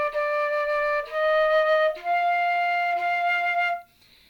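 Flute playing a short phrase of the Star Spangled Banner, a few clear sustained notes stepping upward, solo and close, with no accompaniment.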